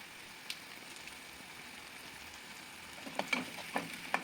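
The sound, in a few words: vegetables sautéing in oil in a pan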